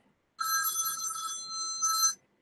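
A telephone rings with a bright electronic trill, two bursts close together at moderate loudness, with no voices over it.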